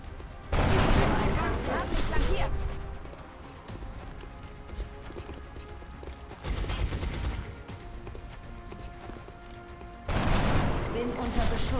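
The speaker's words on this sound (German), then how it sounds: "Bin unter Beschuss." Gunfire in the video game XCOM Enemy Within: loud bursts of rapid shots come in three heavy volleys, separated by quieter stretches of scattered cracks and in-game background sound.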